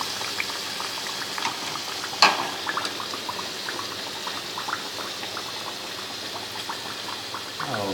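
Taco shells fry in hot oil with a steady, close bubbling hiss, scattered crisp pops and one sharper clink partway through, with no talking.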